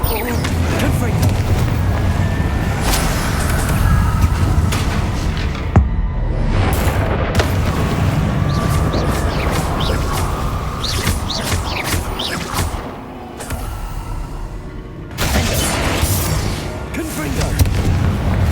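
Booming blasts from the Confringo blasting spell in the Hogwarts Legacy video game, heavy loud explosions over a dense rumbling battle backdrop, with a couple of brief drops in the din.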